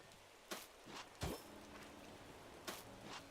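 Rain falling in the Animal Crossing: New Horizons video game makes a quiet, steady hiss, broken by a few louder, brief patters.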